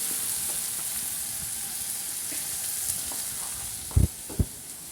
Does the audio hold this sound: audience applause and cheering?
no